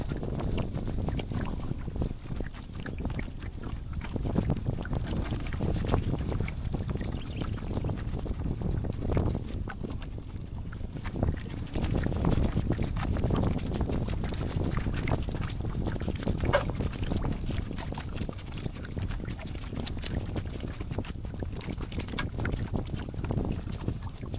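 Wind gusts across a small boat on open water during a rod-fishing outing near Nagcarlan, making a steady, loud, rumbling rush against the microphone for the whole stretch, with no clear talk.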